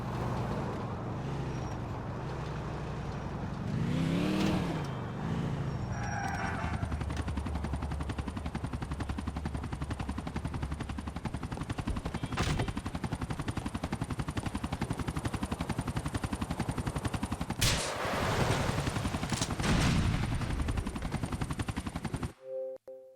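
Gunfire, vehicle engines and a helicopter in GTA IV combine in a continuous loud din as a helicopter is struck by a rocket, with heavy blasts around four seconds and near the eighteen-second mark.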